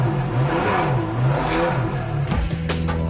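A Ferrari Enzo engine runs close by, a steady mid-pitched hum that rises in pitch, dips, then settles into a rougher, lower idle near the end.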